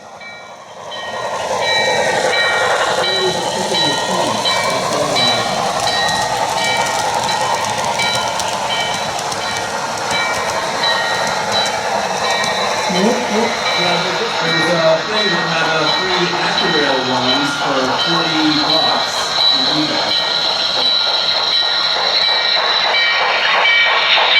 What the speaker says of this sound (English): train number 27, the Cincinnati-bound Cavalier, charges towards a station stop in Penn Heights.